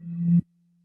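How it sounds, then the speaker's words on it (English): A single short, low hum from blowing across an empty bottle, lasting under half a second with a breathy onset before cutting off, leaving a faint lingering tone. "The one that is empty made a lower pitch sound"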